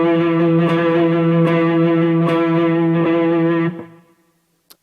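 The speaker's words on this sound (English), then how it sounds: "This is wrist vibrato." Single sustained electric guitar note shaken with wrist vibrato, a steady wavering pitch with light distortion ringing loud and close for nearly four seconds before being cut off, no voices.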